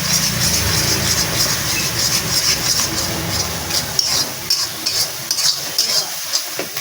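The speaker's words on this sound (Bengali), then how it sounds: "দেখো সুন্দর করে একটা ডিমটা ভাজা হচ্ছে" Eggs fry in onion masala, sizzling steadily while a spatula stirs and scrapes the pan in a continuous, close, busy texture with no talking.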